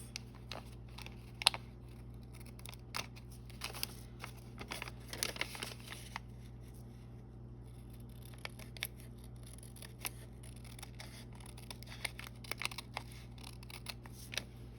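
Scissors cut paper for an origami bow paperclip in a quiet room, taking off thin slivers as a series of faint, crisp snips scattered across a low background hum, with some light paper rustling.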